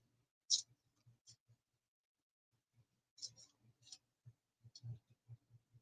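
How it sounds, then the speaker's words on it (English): A small stack of thirteen playing cards being shuffled by hand, giving a few soft, brief riffles and flicks with scattered light taps in between, close up and quiet, with no talking. "We pick up the 13 cards and just shuffle those a little bit."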